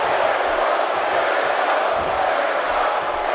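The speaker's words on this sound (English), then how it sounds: "Crowd is really behind Kurt Angle right now, if you could hear it." Crowd roaring and cheering in the wrestling video game WWE 2K18, a continuous wall of massed voices at the Survivor Series event, steady and loud for the whole stretch.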